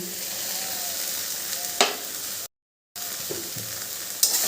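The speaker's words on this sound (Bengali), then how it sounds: "এবার আমি এই যে আমুল দুধটার ভিতরে ঢেলে দিচ্ছি" Loud continuous sizzling and stirring come from a pan of taro stem curry as Amul milk is poured in, with a couple of sharp scraping clatters and a brief gap of silence.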